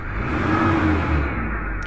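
A 2010 Toyota Coaster engine on a road test after a repair for a check engine light, power loss and a smoky exhaust, giving a steady loud drone as it accelerates, heard from inside with no talk.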